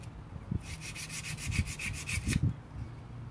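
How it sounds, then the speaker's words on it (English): Hand sanding with coarse 50-grit sandpaper while repairing a Toyota FJ40 steering wheel: one steady back-and-forth rubbing stroke lasting about two seconds, close and fairly quiet, with no talking. "feeling pretty good for my first sanding"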